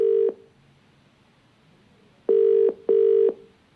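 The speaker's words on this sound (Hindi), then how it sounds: "हम लगातार फोन मिला रहे हैं, कोशिश कर रहे हैं" Telephone dialing tones from a call being placed to a coaching institute official: one short steady beep, a pause, then two more beeps in quick succession, clear and loud with no talk over them.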